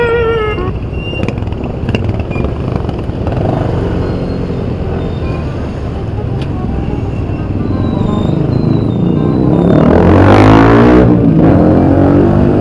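Loud, dense road traffic rumbles continuously close by, engines droning and swelling as a vehicle seems to pass near the end, with no voices over it.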